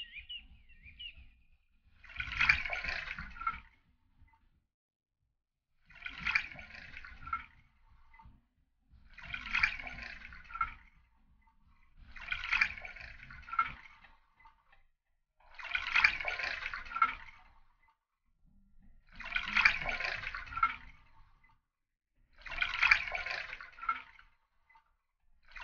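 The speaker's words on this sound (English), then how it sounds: "All you have to do is pour juice 10 times into the" Juice is poured from a measuring jug into a container again and again, giving seven separate liquid splashing bursts about three seconds apart, with silence between them.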